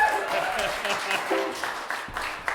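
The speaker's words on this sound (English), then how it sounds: "he needs extra applause for learning that" Applause from an audience at a gallery and art center concert, moderately loud clapping for the musician Bill, with some voices and cheers mixed in.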